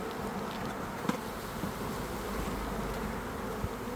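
Honey bees buzz in an open hive that is ready to swarm, a dense, steady close-up drone with faint knocks and handling sounds beneath it.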